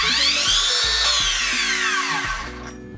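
A Makita 40v 8 1/2 inch cordless miter saw runs with a loud, steady high-pitched motor whine that falls gradually as the blade spins down toward the end, heard close with no speech.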